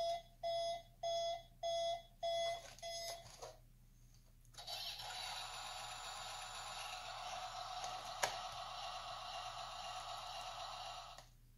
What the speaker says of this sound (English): You push one, you get a reverse beep. You push another one, and it's engine noises.